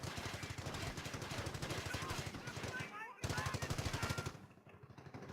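Rapid machine-gun bursts from MG crews in Company of Heroes, dense rattling rounds firing in long rhythmic strings with a brief pause, loud and close, under a commentator's voice.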